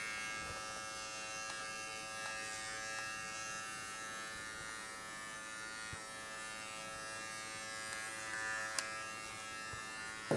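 A kensen USB-C electric body trimmer on its 2 mm setting hums with a steady, close buzz throughout, without any talking.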